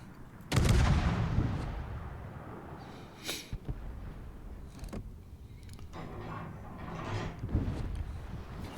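Naval guns firing in World of Warships, a loud close boom followed by a rumbling tail, then scattered fainter distant gunfire thuds and explosions over several seconds.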